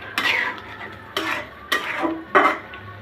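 Green chili and mustard paste stirred in a pan for a mustard-paste ash gourd vegetable curry, giving four separate scraping, clattering strokes of utensil against cookware, each short and close.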